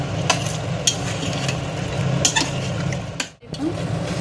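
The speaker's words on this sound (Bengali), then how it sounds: "এবার কিছুক্ষণ ধরে আমি আলুটার সাথে মশলাটাকে কষে নেব।" Fried potatoes are stirred with spice masala in a pan for mutton curry, giving steady close sizzling broken by intermittent scraping spatula strokes.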